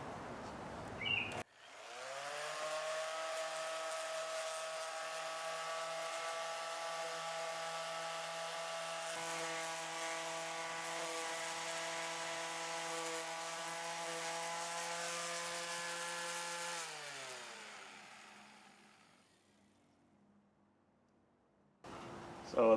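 A power sander runs steadily on wooden chair slats for about fifteen seconds, with a loud, even whine that ends in a short wind-down and near silence.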